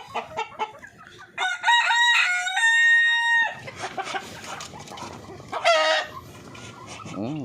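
Native Darag and Pinoy chickens crow and cluck on a farm, with a rooster's long harmonic crow in the middle and loud, close clucking before and after.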